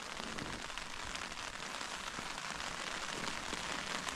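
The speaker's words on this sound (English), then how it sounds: "all it's done basically since I put the camera down is rain" Steady, heavy rain pours down in a dense, continuous hiss at a wild camp by Dale Head Tarn, with drops pattering on a surface close by, no wind and no other sounds.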